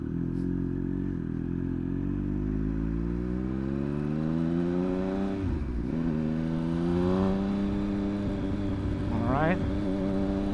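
A Triumph 1200 motorcycle engine idles with a deep, loud rumble, then revs up and down in rising and falling sweeps, with someone speaking briefly over it.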